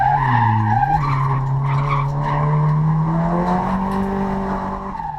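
A Nissan CA18DET-powered drift car slides around a track, its engine droning loudly with a rising pitch as the tires squeal continuously through a long skid, close and steady throughout.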